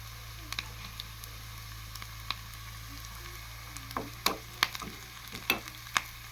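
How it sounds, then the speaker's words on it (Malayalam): Onions and curry leaves frying in oil for a fish curry: a faint, low sizzle under a steady hum, with a handful of sharper stirring scrapes clustered near the end, no talk. "ഉള്ളിയും പിന്നെ കറിവേപ്പിലയും മറ്റു ഇൻഗ്രീഡിയൻസ് എല്ലാം കൂടി ഒന്ന് മൂക്കുന്ന വരെ നമ്മൾ കാക്കണം"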